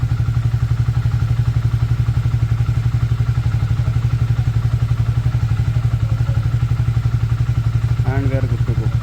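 Warmed-up Triumph Speed T4 motorcycle engine idling steadily, a loud, close, even low-pitched thrum with a rapid regular pulse throughout and a brief faint tonal blip near the end.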